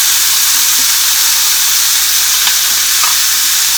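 Beef sizzles steadily in a hot pan for niku udon, a loud, dense frying hiss with a few faint stirring clicks and no voices.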